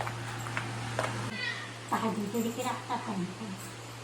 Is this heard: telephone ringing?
no